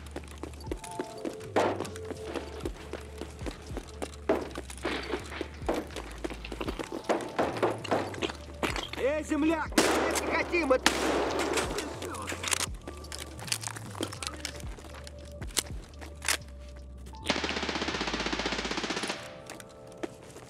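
Double-barrel shotgun fire in a video game: sharp scattered blasts amid clattering footsteps, thuds and game noise, with a harsh hissing burst near the end and no talk.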